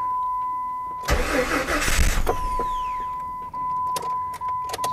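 A Jeep 4.0L six-cylinder engine cranks with a fast starter whir for about a second, catches roughly and stumbles, then fades, leaving a steady electrical whine and a few faint clicks.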